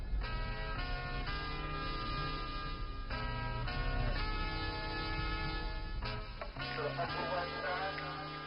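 Dense jungle drum and bass music playing from a radio, steady and loud throughout, with sustained tonal layers over a driving beat and a short break near the end.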